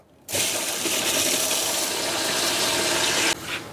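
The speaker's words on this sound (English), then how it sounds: "So by opening that, water's going in" Water rushes into a water softener tank after the bypass valve opens, a loud steady hissing flow that starts abruptly, holds, then cuts back to a lower trickle.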